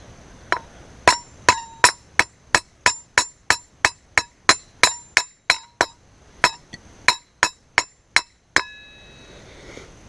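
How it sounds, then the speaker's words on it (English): A hammer drives a wheel bearing into the front hub of a Yamaha Raptor 660 ATV with a rapid series of about twenty sharp metallic strikes, each clanging loudly with a ringing tone, then a short pause and a final ringing blow. "Or just use a bigger hammer, like a sledge, that way you hit it nice and even."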